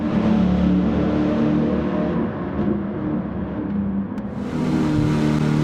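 A Ford Mustang Boss 429 races in Gran Turismo 7, its engine droning and revving loudly and continuously, dipping briefly before surging again toward the end.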